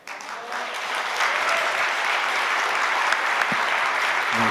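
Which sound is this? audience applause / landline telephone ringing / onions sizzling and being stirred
audience applause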